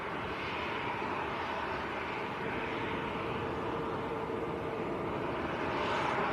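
A Ryanair airliner takes off at Manchester airport, its engines a broad, sustained jet roar heard from a distance that holds steady and swells slightly toward the end, with no voices.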